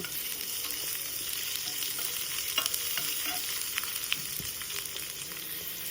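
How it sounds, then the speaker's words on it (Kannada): Chopped vegetables and cumin frying in a pan, a steady hiss of oil with scattered light clicks and scrapes from stirring, moderately quiet and without speech. "ಅದಾದಮೇಲೆ ನಾವು ಹೆಚ್ಚಿಕೊಂಡಿರೋ ಎಲ್ಲ ತರಕಾರಿನ ಅದರೊಳಗಡೆ ಹಾಕಿ ಚೆನ್ನಾಗಿ ಫ್ರೈ ಮಾಡ್ಕೊಳ್ಳೋಣ"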